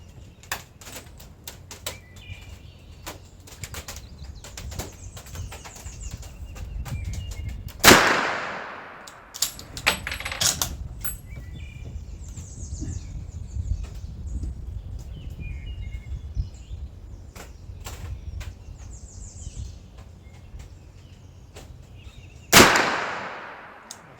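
A .303 British Enfield rifle made by Savage fired twice, each a sharp, loud crack some fifteen seconds apart, with clicks and handling noises from the bolt and action in between.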